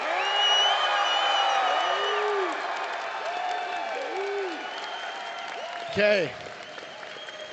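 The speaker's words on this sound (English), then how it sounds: "we wanted to give you all a round of applause" An audience claps steadily in a dense wash of applause, with scattered cheers and voices mixed in, then a short loud burst near the end.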